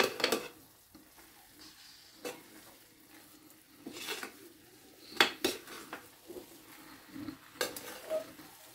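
Semolina halwa stirred in a pan over a low gas flame, a spoon scraping and clinking against the metal in irregular strokes with a faint sizzle beneath, close and moderately loud.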